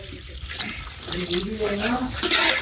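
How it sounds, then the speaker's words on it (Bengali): Water from a tube well runs and splashes steadily at close range, with voices talking over the flow throughout. "টিবলের পানি"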